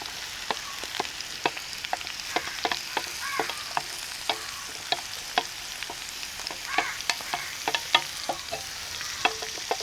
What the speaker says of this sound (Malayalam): ഇതൊക്കെ ചേർത്ത് നന്നായിട്ടൊന്ന് ഇളക്കുന്നത്